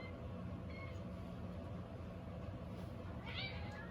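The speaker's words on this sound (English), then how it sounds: "I'm not sure if you can hear that, but that's my cat." A cat lets out a couple of soft meows over a steady low rumble of background noise, faint and somewhat distant.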